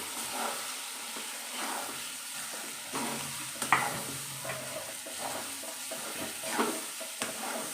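A pan of Maharashtrian zunka is stirred steadily, with repeated scraping strokes against the metal under a soft continuous sizzle, close and moderately quiet, no voices.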